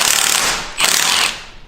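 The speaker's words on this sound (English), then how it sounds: "We just loosened the last head bolt" Pneumatic impact wrench loosening a cylinder head bolt on a Cummins-swapped Mustang engine; a loud, close ratcheting hammer burst with a brief pause mid-way, then a second rattling burst that fades out.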